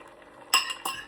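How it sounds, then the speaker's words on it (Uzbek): Utensils clink against dishes while an omelette is cooked in a home kitchen, two short bright metallic strikes close by over quiet background. "Omlet qovuramiz endi."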